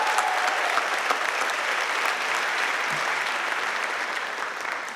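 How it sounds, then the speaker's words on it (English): A graduating class applauds at their graduation ceremony, a broad steady roar of many hands clapping that holds throughout and eases slightly toward the end. "so let's give ourselves a round of applause"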